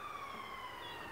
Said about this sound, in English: Ambulance passing.